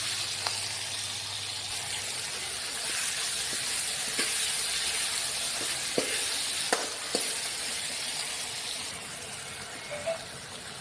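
Chopped tomato is stirred into a curry in a pan over a continuous hissing sizzle, with a handful of distinct scraping taps of a spoon against the pan, close and steady, without any voices.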